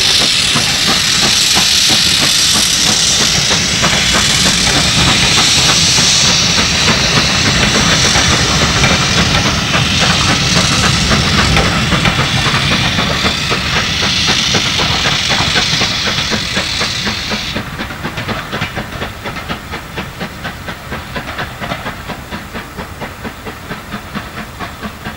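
A steam locomotive pulls away at the Great Central Railway winter gala with a loud, continuous hiss of escaping steam over rapid chuffing and rail rumble. The hiss thins partway through as the engine moves on.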